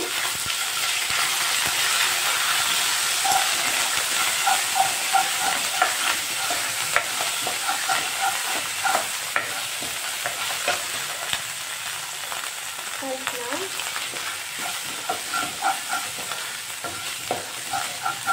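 Ginger garlic paste frying in a hot pan, a continuous close sizzle with frequent clinks and scrapes of a spoon stirring against the metal, irregular taps scattered throughout, no voices.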